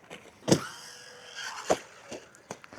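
A 1/10 scale four-wheel drive RC car being bashed over a foldable ramp gives short, whirring electric motor bursts, with a couple of louder revs and sharp knocks scattered across a few seconds.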